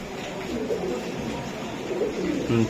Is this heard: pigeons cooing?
yes